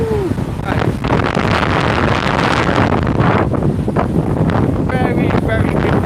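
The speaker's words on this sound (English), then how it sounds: "Know how windy it is." Strong gale wind from Storm Eunice on the seafront at Blackpool, a loud continuous roar and buffeting across the microphone with rough surging gusts, and a person talking faintly beneath it.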